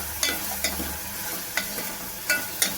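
Turkey berries (sundakkai) sautéing in a pan for sundakkai kuzhambu, a steady close sizzle broken by several sharp scraping strokes of a spatula, with no talk.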